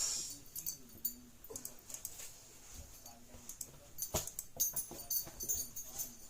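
Puppies whimper and shuffle about, soft high whines and yips coming in short bursts over faint rustling movement, close by with no talking.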